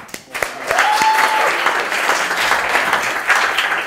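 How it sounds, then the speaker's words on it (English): A comedy club audience breaks into applause after a brief quiet start, the clapping swelling quickly into a dense, even round that carries on to the end with some crowd noise mixed in. "Give yourselves a round of applause"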